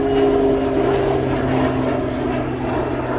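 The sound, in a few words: DC-10 aircraft flying on approach near Anchorage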